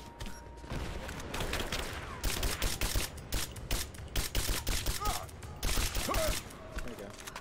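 Bursts of video game gunfire in Rise of the Tomb Raider, loud irregular volleys with gaps between them over a steady game background, with someone talking over the action at times.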